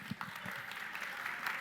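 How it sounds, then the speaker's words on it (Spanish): Students at a school math class applaud, giving a short, faint burst of clapping that sounds distant. "que este aplauso también sea para ustedes"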